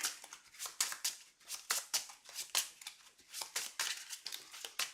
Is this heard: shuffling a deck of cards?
yes